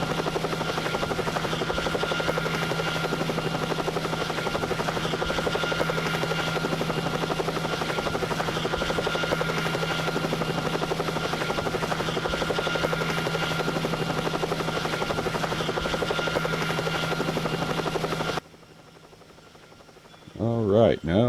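Helicopter flying in the Second Life virtual world: a loud, steady rotor drone with a constant buzzing hum that runs unbroken for most of the stretch, then cuts off abruptly near the end.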